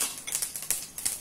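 Mustard seeds, cumin, urad dal and dried red chillies fry in hot oil for okra fried rice, a brief burst of quick, irregular crackling pops heard up close.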